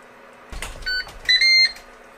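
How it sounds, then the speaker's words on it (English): A few short electronic beeps sound from a Ninja Foodi Digital Fry air fryer oven as its timer ends, one brief tone followed by a longer pair, after a soft click. "Ten minutes are up, the unit beeps"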